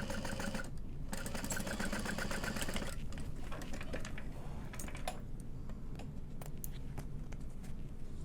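Sewing machine stitching a handbag along a 3/8 inch seam, a steady rapid mechanical whir with a fast rhythmic needle chatter, close and continuous, with a few light clicks near the end.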